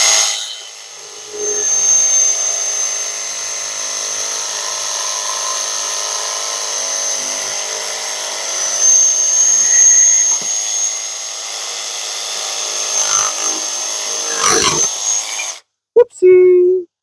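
A DeWalt XR DCS332 cordless jigsaw cuts through wood with zero orbital action, a steady loud buzzing whine that runs for about fifteen seconds before stopping abruptly, followed by a brief clatter.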